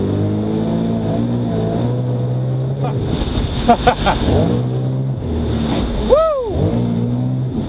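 A jet ski engine drones steadily on open water, its pitch shifting as the nose lifts and the craft surges forward, with wind buffeting the microphone and a rising whine near the end; a rider whoops briefly over it.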